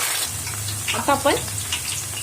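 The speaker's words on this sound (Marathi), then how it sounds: "एक 5 ते 7 मिनिट आपण मंद आचेवरती छानपैकी आपण तळून घेऊया।" Raw banana chips frying in oil over a low flame give a steady close bubbling sizzle, with a few brief stirring clinks mid-way.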